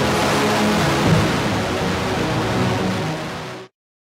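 A dense, gritty synth tone holds steady and loud for several seconds, thick with noisy distortion, then cuts off abruptly.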